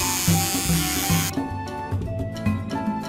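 Electric clippers buzz steadily as they shear a sheep in a toddler farm video game, the whir cutting off partway through while bouncy game music plays on underneath.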